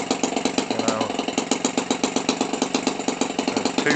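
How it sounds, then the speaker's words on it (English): A Toro 28cc gasoline engine for radio-control models idles steadily and loudly nearby, with a rapid, even, buzzy firing rhythm throughout and no talk. "A lot of power here for a 28cc engine"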